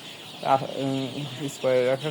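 Close chickens cluck and call in short bursts with harmonic squawks, amid light farmyard background noise.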